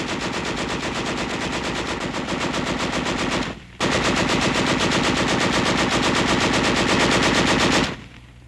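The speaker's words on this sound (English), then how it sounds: "a demonstration of hip shooting with a machine gun." Machine gun fired from the hip during a 1945 military training demonstration, two long sustained bursts of rapid, loud, evenly spaced shots separated by a brief pause, with no talking.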